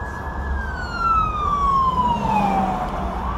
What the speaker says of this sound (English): There's a fire truck. You see the lights.